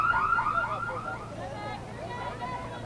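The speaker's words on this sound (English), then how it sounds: "that is not a real car alarm. That is just a sound effect." A car alarm sound effect plays over the PA at an outdoor college softball game between Carson-Newman and Catawba, a loud repeating electronic warble heard alone with some crowd ambience.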